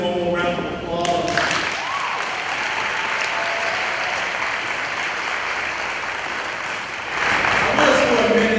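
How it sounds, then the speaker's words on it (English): Applause from a high school graduation ceremony audience honoring graduates, steady and loud, with a brief dip and then a stronger surge near the end. "Let's give them one more round of applause."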